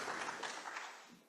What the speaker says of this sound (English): Another huge round of applause to the project implementation team